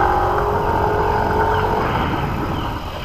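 A 2021 Yamaha NMAX scooter, ridden fast and braked hard to test its ABS, produces a loud, steady drone of engine and road noise that eases slightly at the end; no speech.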